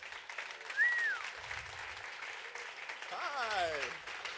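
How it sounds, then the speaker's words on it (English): Audience applause fills the room as a steady wash of clapping, with a voice speaking briefly over it. "Let's have a round of applause for Rudy Miles."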